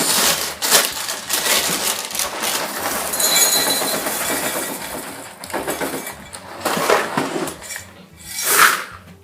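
Dry Corn Chex and Rice Chex cereal poured into a bowl, a loud continuous rattling crunch of pieces tumbling, with a couple of separate pours toward the end.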